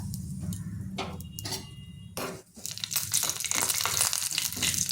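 Curry leaves drop into hot oil with black mustard seeds just after the gas is turned off. A soft crackle bursts into a loud, dense sizzle and spatter that carries on close by with no talking.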